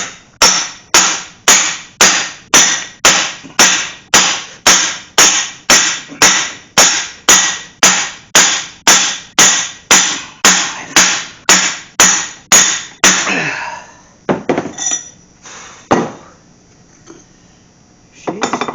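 Hammer blows drive a bearing onto the input shaft of a Mopar 833 4-speed manual transmission, a steady run of about thirty sharp metallic strikes at a quick, even rhythm, then a few scattered clinks and handling noises.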